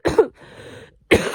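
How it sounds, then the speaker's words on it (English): Two sharp, close coughs separated by a short pause, with faint breathy noise between them. "accompanied by a cough"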